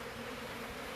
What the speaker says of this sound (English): There's a few bees hanging around too